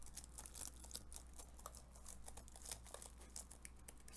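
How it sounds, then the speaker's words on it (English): Faint, crunchy clicks and crinkly taps from sticky keys on a liquid-damaged MacBook Air M1 A2337, uneven and quiet, with no talking. "Sticky keyboard."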